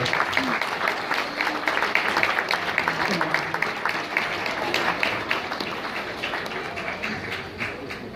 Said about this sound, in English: Let's have a big round of applause for this little one